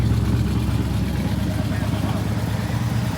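A 1970 Chevelle SS engine revving at half throttle, a steady, dense, low rumble held close and loud throughout.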